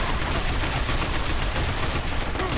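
Dense, continuous gunfire from a firefight in Binary Domain, a rapid wall of overlapping shots and bursts that stays loud and steady throughout, with no voices.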